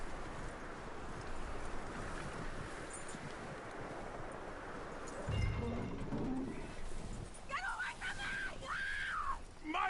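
Horse hooves clip-clop softly over a windy outdoor ambience in Red Dead Redemption II, faint and steady beneath distant rustling, with a brief thump midway and some high tonal cries toward the end.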